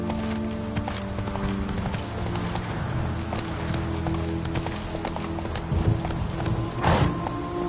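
The horse Roach gallops in The Witcher 3, with rapid rhythmic clip-clop hoofbeats running steadily and close, joined near the end by a louder burst that may be a snort or whinny.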